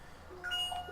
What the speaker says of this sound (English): That was my phone, that sound.